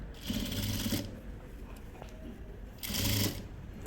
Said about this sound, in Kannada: ಫಸ್ಟ್ ನೇರ ಒಂದು ಒಂದು ಇಂಚ್ವರೆಗೂ ಹೊಲಿಗೆ ಹಾಕ್ಕೊಳ್ಳಿ